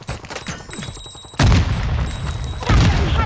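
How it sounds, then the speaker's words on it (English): A breaching charge detonates in a tactical shooter video game: after quieter game ambience, two loud, heavy booms follow one another, each with a broad rumbling tail. "set a charge on the target and detonate it"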